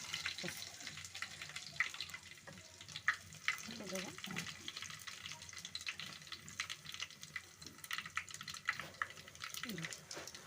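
Hot oil with cumin and mustard seeds splutters and crackles in a pan, faint irregular pops and sizzling under soft ambient noise.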